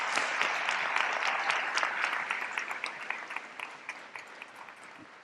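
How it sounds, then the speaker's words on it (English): Graduation audience applauds in a ceremony hall, dense clapping that starts full and gradually thins into scattered individual claps. "Let's give them a well-deserved round of applause."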